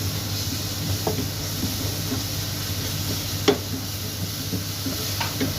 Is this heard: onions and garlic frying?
yes